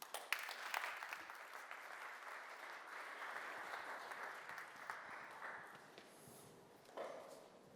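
A conference hall audience gives warm applause, a faint, even roar of many hands that holds steady, then thins and tapers off toward the end.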